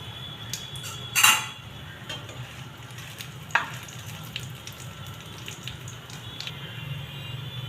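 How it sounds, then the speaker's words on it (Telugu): Tempering seeds and dry red chilies crackle in hot oil for sago upma, a steady close sizzle with one sharp burst early on and scattered pops after, no voices. "పోపు గింజలు వేసుకున్నా. ఎండుమిర్చి పోపు గింజలు"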